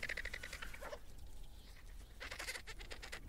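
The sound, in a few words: vultures calling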